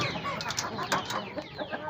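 Black Heavy breed hens cluck in a run of short, close calls, a busy farmyard chatter with no talk over it.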